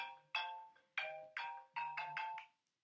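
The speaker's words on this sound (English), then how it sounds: "I forgot to turn off my phone." A mobile phone ringtone plays a short series of bright electronic notes in a quick, uneven melody, fairly quiet and alone before it cuts off.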